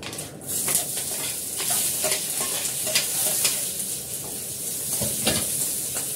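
Green chilli and chopped onion fry in a little oil for chowmein, a bright continuous sizzle broken by scraping stirs and light clinks, close and steady with no talking.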